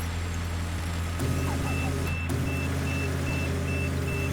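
A Western Star 47X truck in the SnowRunner game backs up, its reversing alarm beeping steadily in a regular series over a loud, constant diesel engine drone.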